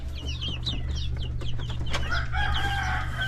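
Dekalb Brown laying hens cluck and call repeatedly in a coop, a steady busy chorus of short clucks with a brief crow-like cry, close and moderately loud over a constant low hum.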